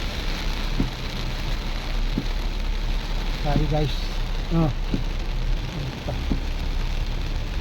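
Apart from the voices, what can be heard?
heavy rain on a mini van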